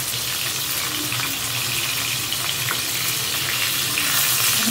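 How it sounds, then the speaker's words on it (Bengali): Pieces of fresh catla fish lightly frying in oil in a pan, giving a loud, steady, close-up sizzle and crackle that continues without a break, with no voices. "হালকা করে ভেজে আবার এক পিঠ উল্টায় দিতে হবে"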